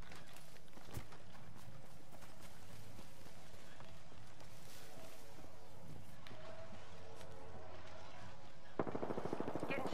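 Gunfire during an Apex Legends match, rapid bursts of shots crackling through a busy, dense game soundscape, with a sharper cluster of reports near the end.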